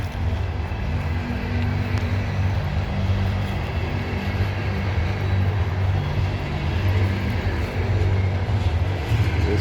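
A loaded CSX coal train climbs Parrs Ridge on the old B&O mainline, a steady low rumble of engines and rolling cars, close and continuous with no talk.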